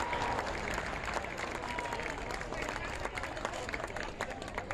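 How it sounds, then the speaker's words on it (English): A boxing crowd applauds after a bout goes the distance, a steady dense wash of clapping and cheering throughout, fairly distant and even in level with no talk over it. "A round of applause, folks, once again."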